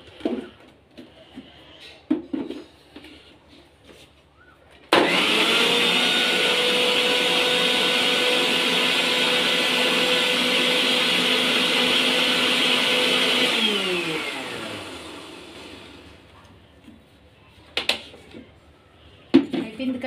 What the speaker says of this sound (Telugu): జస్ట్ తర్వాత మనం ఒకసారి ముందు షేక్ చేసుకుందామండి మిక్సీలోని